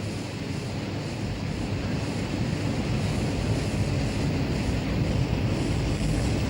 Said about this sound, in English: Only the constant flow of water through the lock breaks up the ice